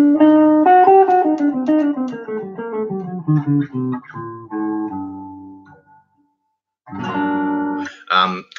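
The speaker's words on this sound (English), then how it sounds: "it's a different kind of minor major 7 sound from a harmonic minor" A guitar played with an effects tone runs down a harmonic minor scale in quick, even notes, pauses, then strums a ringing minor major seventh chord, with no talking.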